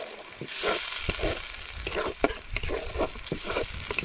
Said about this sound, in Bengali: এবার মশলাগুলো এখনো দু মিনিট কষিয়ে নেব